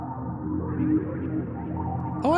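Synthesized sound effect associated with a character's theme intro from Sonic Adventure, played back on a PlayStation sound chip: a dense, buzzing electronic texture with a rising sweep near the end, heard alone.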